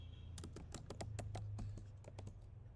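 Rapid typing on a computer keyboard, a run of crisp, evenly spaced key clicks lasting a few seconds, close and moderately loud over a steady low hum, with no talking.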